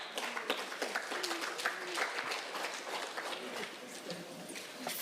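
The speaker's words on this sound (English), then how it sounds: "A round of applause, ladies and gentlemen." Crowd applause at a prisons and correctional service parole conference, greeting the ten officers commanding provinces: a dense burst of clapping from many hands, steady and fairly close, with faint voices mixed in.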